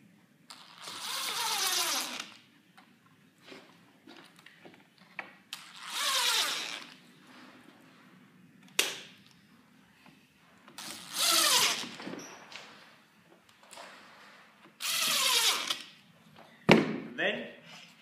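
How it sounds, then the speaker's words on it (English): An impact driver sets 20mm screws through a router plate, with four separate bursts of broadband whirring and rattling, each about a second or two long and separated by quieter handling noises. "With some 20mm screws and your impact driver, screw it to the plate through the holes."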